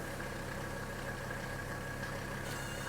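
A 1977–1985 Mercedes diesel engine idles steadily close by with a continuous low knocking rumble, no shutoff evident within the span.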